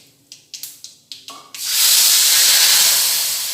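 Lemon juice poured into hot oil with garlic for a pickle. A few short clicks and taps come first, then a loud, steady sizzle and spatter bursts up and keeps going, close by with no voices.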